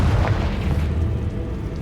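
A Confringo blast spell explodes in the Hogwarts Legacy video game, a single deep boom that decays into a rumbling tail, heard alone.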